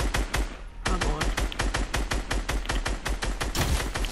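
Rapid bursts from a tactical SMG in Fortnite, a fast, even stream of loud, close gunshots with a brief pause near the start before the firing resumes.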